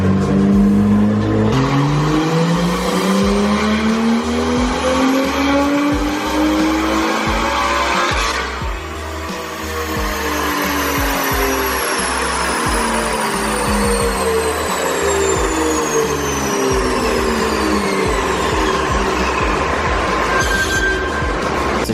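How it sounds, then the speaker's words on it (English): A stock BMW M car engine running on a dyno, revving steadily and loudly up through the gears in long rising sweeps, then a brief dip and a second long climb to a high whine, close and continuous. "We're going to run it once, see what the horsepower and torque numbers are"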